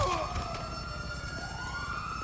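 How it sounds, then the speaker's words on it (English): An ambulance siren in GTA 5 wails loudly and close by, its tone sweeping up and down without a break. "Oh, shit, it's the ambulance!"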